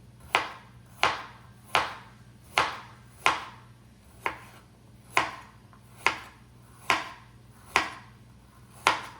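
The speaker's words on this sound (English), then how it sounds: "Carrots, I'm just gonna give the carrots a rough chop" A knife roughly chopping carrots on a cutting board while making chuck wagon soup, with about a dozen sharp, evenly spaced chops sounding close and alone.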